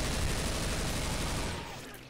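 Rapid gunfire from Left 4 Dead 2 rattles in a dense, continuous burst that fades toward the end, with voices mixed in.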